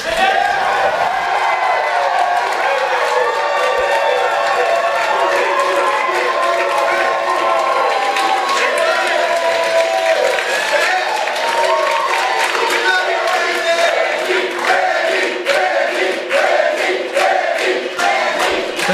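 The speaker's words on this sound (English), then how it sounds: "I was right about that thunderous applause for both you candidates" Thunderous crowd applause and cheering fill a hall as a candidate is welcomed at the Wisconsin 1st Congressional District debate, steady dense clapping with shouts layered throughout, loud and sustained for the full stretch.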